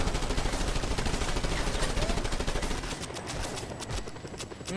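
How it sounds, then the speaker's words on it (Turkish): Rapid gunfire from the video game Just Cause 2, a dense, loud continuous barrage of shots that thins slightly near the end, with no clear talk over it. "Sıkıyorum şu an oraya"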